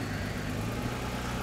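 A car engine runs steadily at low speed as the car is eased forward, a continuous low hum with no one speaking over it.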